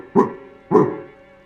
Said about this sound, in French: vas-y, aboie un bon coup.